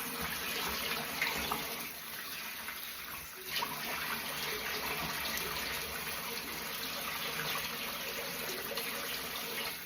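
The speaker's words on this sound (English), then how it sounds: "I did turn the hot water on." Hot water runs from a kitchen tap in a steady, even stream, a continuous low rushing with no talking over it.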